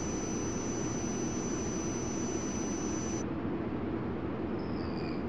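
A Lufthansa jet takes off at Frankfurt in the Tower! 2011 simulator: a steady, loud, broadband engine roar fills the clip, with a thin high whine that cuts out partway through while the rumble carries on.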